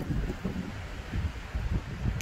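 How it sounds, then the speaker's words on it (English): Gusty wind near a cliff edge buffets the microphone in low, uneven thumps, close and steady, with no voices. "But, oh, it's windy."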